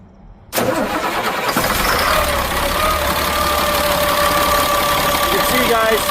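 Inline-six Cat diesel in a 2000 Freightliner FL70 truck cranking and catching, then settling into a steady loud clattering idle close by, with a voice talking over it.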